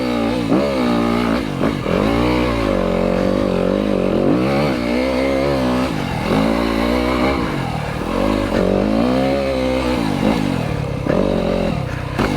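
Yamaha YZ250FX dirt bike from 2025 climbing over rocks on a trail, its engine revving up and down in repeated bursts of throttle, close and loud throughout, with the rattle of the bike over rough ground.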